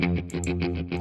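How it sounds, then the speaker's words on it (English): Distorted rhythm guitar chords from a KORG SantaAna generator play through a chorus effect, producing a quick, pulsing strummed pattern with a shimmering, doubled tone, loud and unbroken for about a second. "So our chorus"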